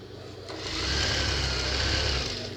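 A sewing machine stitching fabric for overalls at a short stitch length, a close, steady whirring run that builds up, holds, then eases off, without speech.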